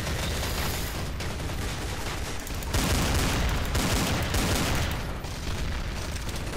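Rapid gunfire from the video game Counter Strike Source during a Gun Game match, a dense unbroken barrage of shots that stays loud and steady throughout with no talking.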